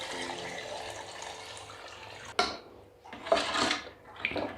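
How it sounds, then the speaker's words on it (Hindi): Broth poured into cooking beef paya masala, a steady close wash of liquid and sizzle, then a clattering knock and two more splashy bursts of pouring and stirring. "तो अब इसमें हम जो शोरबा निकाल के रखा था ये शामिल कर देंगे।"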